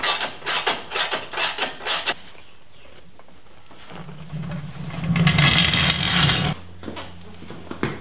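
Bolts being tightened on a Jeep Cherokee's aftermarket front bumper: a run of sharp ratcheting clicks, then a quiet pause and a louder buzzing mechanical whir from a power tool, close by, with no voices.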